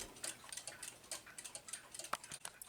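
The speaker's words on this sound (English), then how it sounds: "It's a very loud cuckoo clock." A loud cuckoo clock ticks steadily in a quiet room, an evenly spaced run of sharp, close ticks with a faint background hiss.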